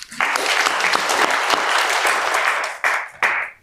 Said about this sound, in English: Those who have joined us here, we also want to give a round of applause.